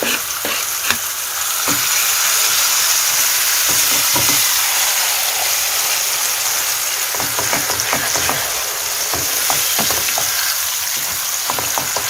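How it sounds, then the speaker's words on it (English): Chopped aubergines frying in a pan for Iranian Mirza Ghasemi, a loud steady sizzle with scattered clicks and scrapes of stirring, close up and without any talk. "I fry it for 6 or 7 minutes."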